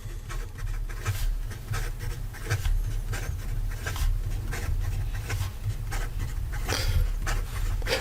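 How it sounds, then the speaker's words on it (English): A Kanilea Nui Nalu fountain pen writing fast on paper, a continuous close scratchy rasp of nib on the page with quick rhythmic strokes, alone, over a low steady hum. "And in regard to some fast writing"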